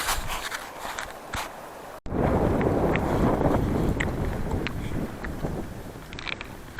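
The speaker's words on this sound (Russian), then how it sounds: "И ветер еще встречный пошел." Strong headwind buffets the microphone on a cold spring morning in Mongolia, roaring in gusts after a brief gentler stretch, with a few faint clicks and rustles.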